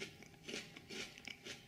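A few crisp crunching bites and chews of a fresh jujube fruit, close and quiet, in a short burst.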